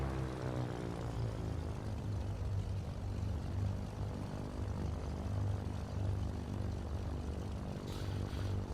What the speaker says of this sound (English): we'll bring it back down to about 1000 RPM